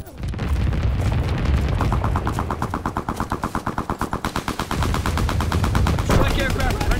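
Loud sustained machine-gun fire in Call of Duty WWII, a steady rapid stream of shots with booming explosions and battle noise behind, a radio-style announcer voice over it.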